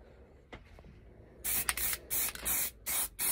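Aerosol can spraying light coats of khaki paint onto a new MTP airsoft patrol pack outdoors, in four or five loud hissing bursts separated by short pauses, after a quieter stretch of faint handling noise.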